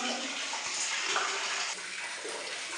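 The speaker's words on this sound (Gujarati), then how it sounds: "એક તો આ ડારમાંથી તો પાણી આવે છે" Water pours steadily from a side borewell hole bored into the wall of a well, a continuous soft hiss and splash of moderate level with no speech.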